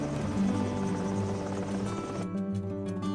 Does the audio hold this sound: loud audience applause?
no